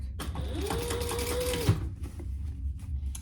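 A sewing machine top stitching the exterior piece of a crossbody bag, a quick steady mechanical whir that runs for about a second and a half, stops with a clunk, then leaves a quiet background.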